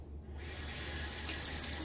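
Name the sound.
water running from a tap, rinsing a shaving soap tin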